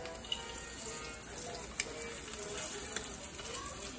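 Fresh-caught blue runner fish sizzling in a hot pan, a steady soft crackle and hiss with a few sharper pops scattered through it.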